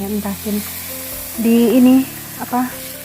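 Ground spice paste sizzling with a few anchovies in a little hot oil, loud close frying with bursts of crackle and stirring.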